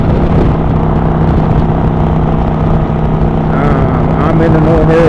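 A motorcycle cruises at an easy steady pace, its engine giving a continuous loud, even drone with wind rush, close to the listener.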